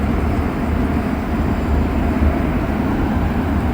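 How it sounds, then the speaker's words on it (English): A Montreal Metro Orange Line train rumbles past on rubber tires, a steady, loud low roar with a faint rattle that holds evenly throughout, no voices over it. "Or maybe that train that just went by"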